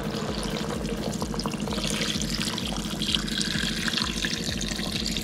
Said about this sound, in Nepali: यति हालिसकेपछि म हाल्छु पानी